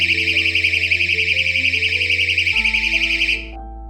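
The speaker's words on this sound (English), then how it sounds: "It stops the door from being pushed open and sounds the alarm" A KERUI battery-powered door stop alarm gives off a loud, continuous warbling high-pitched siren for about three and a half seconds before cutting off abruptly, with nothing else heard.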